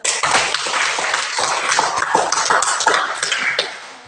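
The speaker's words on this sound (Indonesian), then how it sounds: "berikan dulu tepuk tangan" Students in a classroom break into applause, a burst of close, uneven hand clapping that lasts about four seconds with no talking over it.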